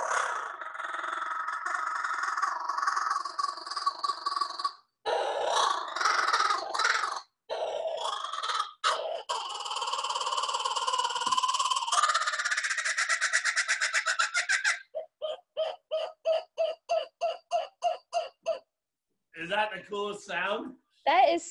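A bird brought out on a show sings its song, a long run of varied loud calls: sustained tones, rapid repeated chirping trills and pulsed notes with short pauses between phrases, heard close and without talking over it.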